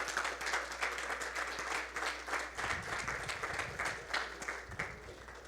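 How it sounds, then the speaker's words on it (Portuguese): A church congregation applauds during a service, giving a sustained round of clapping that carries on evenly throughout, with no voices over it. "Você pode dar um forte aplauso."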